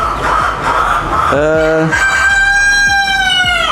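On a free-range chicken farm, a rooster crows loudly and close, its call rising and stretching out, while hens cluck and chatter steadily in the background.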